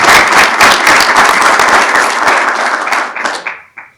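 Sustained applause from an audience welcoming a new football coach at a club press presentation, dense clapping at full level for about three seconds, then thinning out and fading to a few last claps.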